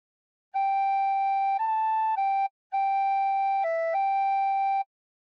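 A recorder plays a phrase of the hymn Nearer My God to Thee as clear, sustained whistle-like notes in two sections separated by a short gap, with no voices.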